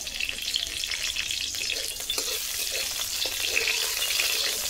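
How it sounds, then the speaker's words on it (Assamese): Green chillies fry in oil in a wok, giving a steady close-up sizzle and crackle with faint stirring scrapes throughout. No one speaks. "অকল জলকীয়া দিয়ে মই ভাজি ল'ম"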